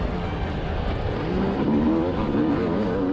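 A 2006 Suzuki RM250 two-stroke motorcycle races on a track, its engine buzzing and rising in pitch as it accelerates, steady and fairly close, with no talk.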